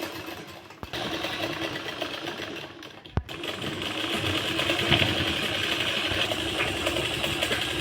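A sewing machine stitches a seam on palazzo pants in a steady, close, continuous whir that builds slightly after a sharp click, with no voices.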